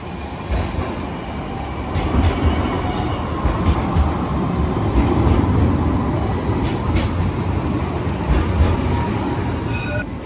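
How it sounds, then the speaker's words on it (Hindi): A train passing close by near Sirkeci, Istanbul at night, with a loud continuous rumble and rattle of railcars, faint rhythmic wheel clacks and occasional high squeals throughout. "ये उधर से वापस ट्रेन आ रही है, वो एक जा रही है और एक आ रही है।"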